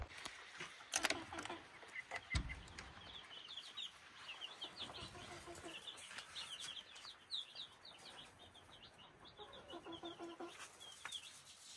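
Many baby chicks chirp in rapid, high-pitched peeps on a homestead, a busy chorus with occasional clucks and a few thumps and rustles nearby.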